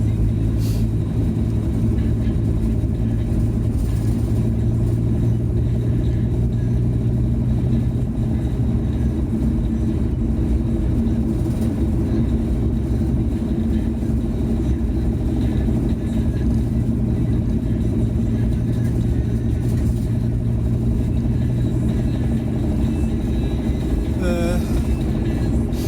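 A VW T4 Transporter van drives slowly on roads near roundabouts, its engine a steady low rumble and drone that runs throughout at constant loudness, with someone talking over it.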